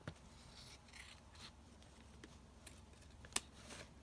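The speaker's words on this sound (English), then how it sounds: "I'm going to just cut this out" Scissors cut through paper while trimming handmade tags with flip-down envelope pockets, a few faint, quiet snips and rustles with short gaps between them.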